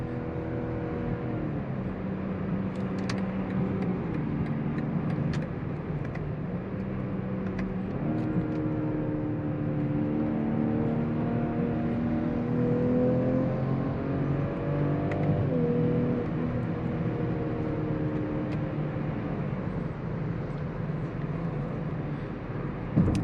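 A 2022 BMW X5 xDrive40i SUV accelerates hard under launch control, its engine rising through gears with a steady loud roar and brief dips at shifts, heard from inside the cabin without talk.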